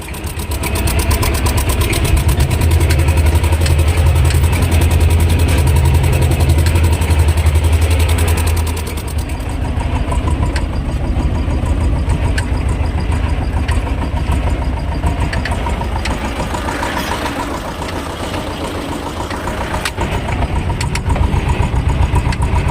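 A T-25 tractor engine idles steadily and close by, a loud continuous low rumble that drops slightly in level partway through and carries on unchanged.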